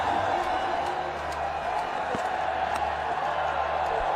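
A cricket stadium crowd in a Pakistan versus West Indies match celebrates a run of wickets, a steady broad roar of distant massed voices with faint whoops rising above a constant wash of noise.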